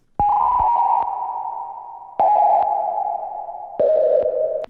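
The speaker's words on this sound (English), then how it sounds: "a white noisy part that sounds like this" Three tonal electronic pings from a processed dial-up modem sample, each sliding slowly down in pitch and ringing for over a second, with faint hiss and sharp clicks at their edges.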